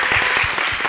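An audience at an in-person gathering claps, a dense burst of applause filling the whole moment at steady volume.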